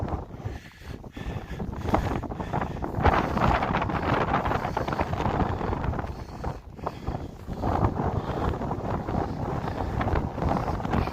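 Strong wind buffets a microphone in heavy, gusting rumbles, with no voices, outdoors near Iqaluit.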